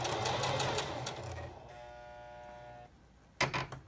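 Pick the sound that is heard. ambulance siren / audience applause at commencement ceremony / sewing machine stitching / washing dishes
sewing machine stitching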